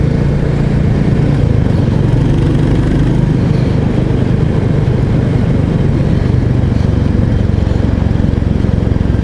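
Single-cylinder Royal Enfield 350 Bullet motorcycle with a quiet exhaust, heard riding: a steady, close, continuous engine rumble and thump with wind noise, no pauses.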